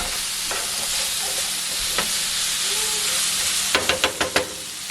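A pumpkin pasta sauce being stirred with paprika in a hot pan: steady sizzling hiss throughout, with a few soft scrapes and then a quick run of utensil taps near the end.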